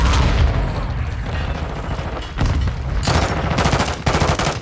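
Dense gunfire and explosive bursts from a grenade fight in Call of Duty MWII multiplayer on the Shipment map, loud and continuous rattling shots with heavier booms, a voice shouting briefly over the chaos.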